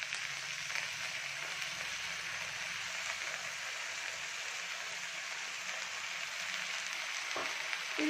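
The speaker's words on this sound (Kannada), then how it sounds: "ಈ ಸೊಪ್ಪೆಲ್ಲ ಸ್ವಲ್ಪ ಕಡಿಮೆ ಆಗುತ್ತೆ ಚೆನ್ನಾಗಿ ಬಾಡಿದ್ಮೇಲೆ, ಅಲ್ಲಿವರೆಗೆ ಚೆನ್ನಾಗಿ ಫ್ರೈ ಆಗಲಿ" Leafy greens frying in a pan with soaked moong dal, a steady close sizzle and hiss running without pause throughout, no talking.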